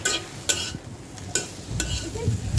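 Pasta being stir-fried in a pan, with irregular scraping and clinking strokes of a utensil over a soft, steady sizzle; close and moderately loud, with no talking.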